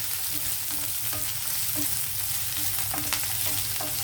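Onions fry in hot oil in a home kitchen pan, giving a steady, close, even sizzle that holds at one level throughout, with no voices.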